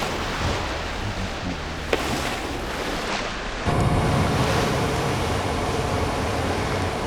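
Ocean waves surge through a rock blowhole on a limestone coast, a steady roaring wash of water and wind that swells louder partway through.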